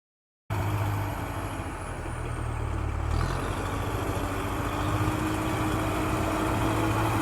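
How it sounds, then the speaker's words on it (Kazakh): An animated tractor's engine rumbles in a steady, loud idle, with a low chugging throb that shifts slightly partway through and then runs on evenly, with no voices. "Дәл таптың. Бұл трактор."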